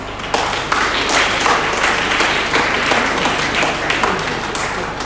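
An audience at a Rotary Club Interact youth conference in a hall bursts into loud, sustained applause, with many hands clapping in a dense, continuous wash. The clapping stays strong throughout.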